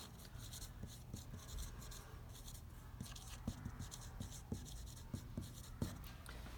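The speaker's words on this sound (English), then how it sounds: "here, I'll write this down." Chalk or marker scratches and taps out math on a classroom board in short irregular strokes, quiet and close, with faint room background.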